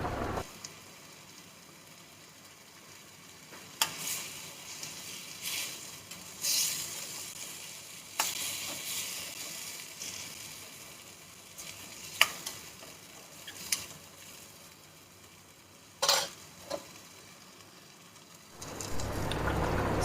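Onions and tomatoes with pepper sauté in a pan, a steady soft sizzle broken by occasional sharp scrapes and clinks of a stirring spoon, close and fairly quiet with no talking.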